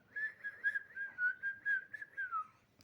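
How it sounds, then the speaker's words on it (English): A boy whistles a simple tune on his way to school, a clear steady melody of connected notes held close and alone, gently sliding down at the end. "He whistled."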